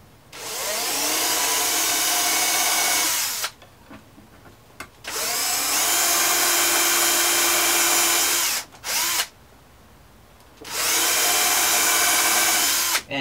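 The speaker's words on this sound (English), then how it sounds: "So I'm going to start with a small drill bit, go up to 3/8," A power drill whines loudly in three long bursts separated by short pauses, close up, drilling a hole in a foil Tuttle-to-top-plate adapter, stepping from a small bit up to 3/8 inch, with a steady high-pitched grinding tone.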